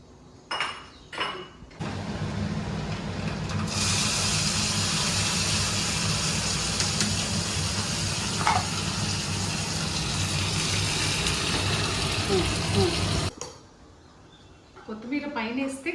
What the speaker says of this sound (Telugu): పోపు పెట్టి దీనిలో వేసేద్దాము